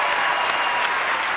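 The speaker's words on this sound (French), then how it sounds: "Quelques applaudissements pour Johnny et les deux jeunes filles ravissantes." Applause from a TV studio audience on a French variety show, steady and dense, filling the short stretch without any voices.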